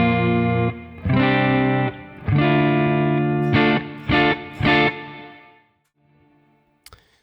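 Electric guitar through a Matchless amp emulation with built-in boost, a thick overdrive tone: sustained chords, then three short stabbed chords, ringing out into near silence with a small click at the end.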